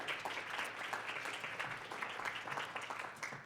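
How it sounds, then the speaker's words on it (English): Audience applause for presenters at a Pecha Kucha presentation event, a fairly faint, steady patter of many hands clapping throughout, heard from a distance with no talk over it. "give them a huge round of applause"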